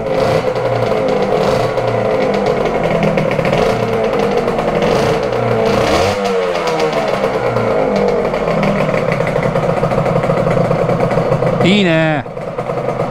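A Honda NSR250 MC16 two-stroke motorcycle fitted with a new CDI runs close by at a steady idle, rises in a short rev, drops back, and then gives a sharp rev near the end, with someone speaking briefly over it.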